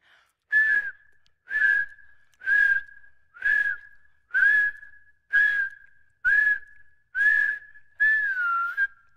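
Someone whistles nine short, evenly spaced notes, each a brief rising-and-falling tone separated by silence.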